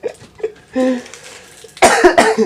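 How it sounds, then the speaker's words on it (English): A man coughs in a studio conversation: a few soft throat sounds, then a sustained raspy cough, followed by a louder burst of harsh, repeated coughs close to the microphone. "I hate to cough."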